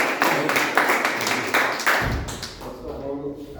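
A room of people at a Toastmasters club meeting gives a round of applause, with rhythmic, fairly close clapping for about two seconds before it thins into a quieter room murmur.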